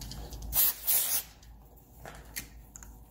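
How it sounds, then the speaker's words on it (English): Brake parts cleaner sprayed from an aerosol can onto the turn signal switch of a Honda Silver Wing 600 motorcycle, two close hissing bursts in quick succession followed by quieter fainter handling noises. "I've probably wiped this down with some brake parts cleaner"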